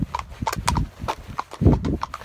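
Horses walk on a trail ride in Ireland, hooves clip-clopping close by in an irregular, uneven rhythm of loud thuds, with no talking.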